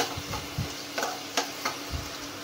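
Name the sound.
sautéing onions in a pan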